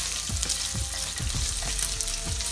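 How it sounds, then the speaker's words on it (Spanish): Bacon sizzles steadily in a wok, with a dense frying hiss and repeated low scraping stir strokes from a utensil, close up and without talk. "Aquí tenemos el tocino ya un poquito frito, obviamente."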